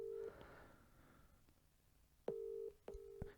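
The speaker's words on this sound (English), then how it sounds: "Whose phone goes to this many rings?" Outgoing phone call ringback tone, a steady electronic burr repeating in short bursts with gaps between, fairly faint and heard alone without talk.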